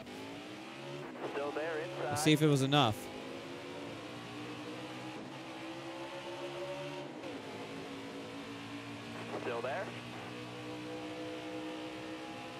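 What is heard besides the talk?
race car engine in NASCAR Heat 4 video game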